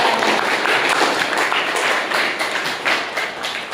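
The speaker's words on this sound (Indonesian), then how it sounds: "Tepuk tangan dulu dong." A class applauds after a student presentation with a short burst of many hands clapping, fairly close and uneven, fading a little toward the end.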